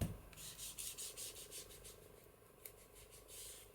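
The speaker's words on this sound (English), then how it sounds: "Ink along this back edge while I'm waiting." An ink blending tool rubbing along a paper edge while crafting a junk journal, giving soft, close, repetitive scrubbing strokes in an uneven rhythm that grow faint toward the end.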